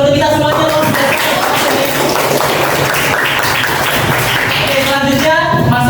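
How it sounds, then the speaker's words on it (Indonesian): A classroom of students breaks into loud, sustained applause lasting several seconds, with voices audible at the start and end. "berikan tepuk tangan untuk kita semuanya"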